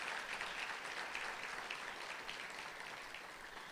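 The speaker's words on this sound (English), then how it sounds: "Please join me in thanking our sponsors with a round of applause" Audience at a corporate summit on women's leadership giving a round of applause for sponsors, a steady, distant wash of clapping that fades slightly toward the end, with no speech over it.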